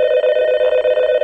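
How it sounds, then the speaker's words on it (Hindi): A telephone rings during a cartoon phone call scene, a steady loud electronic ringing tone pulsing in quick regular beats, alone without talk. "मैं ही करता हूँ फोन।"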